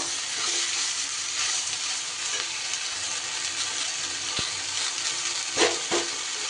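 Fenugreek greens fry in a pan over a mustard seed tempering, giving a continuous loud sizzle and crackle with a few clinks from stirring, close up and without speech.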